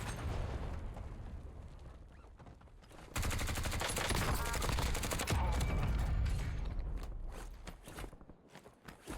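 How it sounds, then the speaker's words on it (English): Incoming gunfire in the video game Call of Duty Warzone, a dense burst of rapid shots that grows loud and sustained midway, with footsteps and game noise around it. "Incoming shots!"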